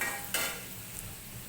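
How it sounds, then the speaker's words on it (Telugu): Onions frying in oil until brown for a Tamil Nadu style vada curry, a soft steady sizzle close by with a single sharp scrape of a utensil stirring the pan. "1 కప్పు ఆనియన్స్ వేసుకొని బ్రౌన్ కలర్ వచ్చే వరకు మనం చక్కగా ఫ్రై చేసుకోవాలి"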